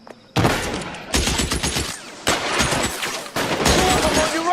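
Bursts of gunfire from a shootout in L.A. Noire come in several loud volleys separated by brief pauses, with scattered game voices.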